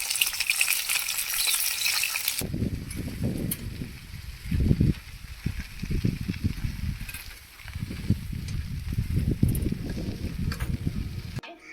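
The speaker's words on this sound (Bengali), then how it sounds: "এবারে মাছগুলো তুলে নেব মাছটা ভাজছে" Fish sizzling in hot oil in a pan over a home cooking fire, with a steady frying crackle broken by brief stirring and handling noises, close to the mic and without talk.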